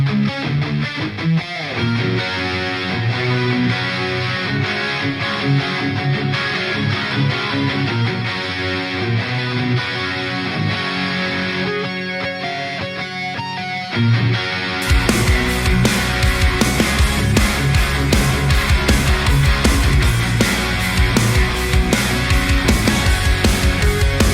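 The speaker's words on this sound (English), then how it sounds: "chorus with all the guitars, it sounds like this, and all the effects on." Layered electric guitars through an ADA MP-1 preamp with chorus and reverb play with a shimmering, spacious effected tone, then grow denser and louder midway as more distorted parts join.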